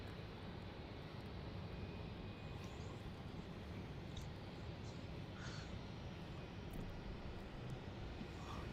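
An airliner taxiing to the runway at Melbourne Airport, a faint, steady distant engine rumble and whine, with occasional crow caws over it.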